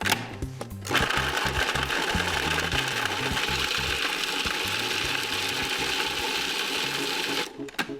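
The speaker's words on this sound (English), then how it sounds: "This is really fast Parmesan cheese, right into the food processor" A food processor grinds Parmesan cheese with a loud, steady mechanical whir and rattling chop, starting after a brief pause and stopping abruptly near the end.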